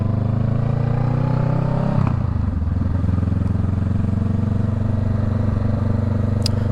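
A motorcycle engine drones steadily while riding, a close, loud, constant hum that dips briefly as the revs shift, then settles back into an even running tone, with no talking.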